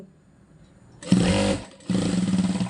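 A sewing machine stitching fabric, running in two short motorized bursts separated by a brief pause, close and fairly loud.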